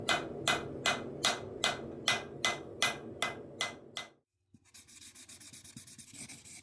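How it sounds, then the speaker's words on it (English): Hammer blows on a steel knife tang being drawn out at the forge for a sgian dubh, about nine loud, evenly spaced ringing strikes, then a short silence and a softer run of rapid scraping or filing strokes. "Every hit just makes the tang a little bit longer."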